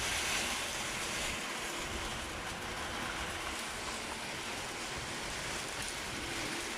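A steady, broad rush of water roars continuously, loud and even with no pauses or voices.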